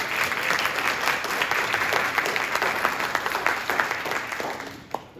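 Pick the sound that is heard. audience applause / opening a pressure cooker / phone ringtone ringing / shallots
audience applause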